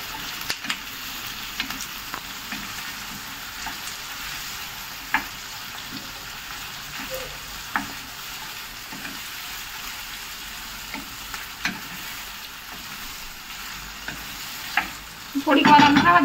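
Tomatoes with salt being stirred in a frying pan, a soft steady sizzle with faint intermittent scrapes of the spoon, ending in a brief louder clatter.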